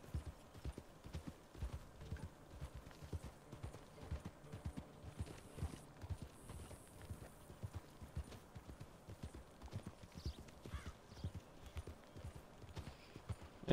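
Steady clip-clop of horse hooves at a trotting rhythm in Red Dead Redemption 2, continuous and fairly close, with a brief whinny-like sound partway through.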